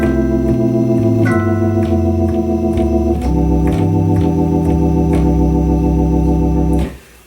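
Solo piano playing a ii-V-I progression in C with a walking bass line, steady chord changes over moving low notes, clear and close, ending on a resolved chord with no voices.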